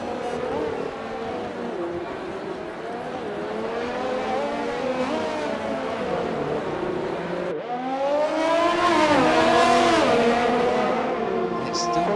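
Race cars in a Codemasters F1 video game drive on continuously, their engines a loud, steady whine that rises and falls through gear changes with a brief cut before a louder, higher stretch, under occasional commentary.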